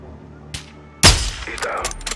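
A single loud, sharp sniper rifle shot cracks out in the Call of Duty Modern Warfare 2 (2022) campaign and leaves a ringing echo tail. A faint click comes just before it.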